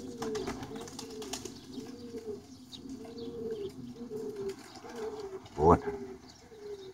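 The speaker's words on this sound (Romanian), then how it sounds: "Ăsta e porumbel de zbor." Flying pigeons cooing in a repeated low throaty rhythm, soft and close, with a brief louder burst partway through and someone speaking quietly.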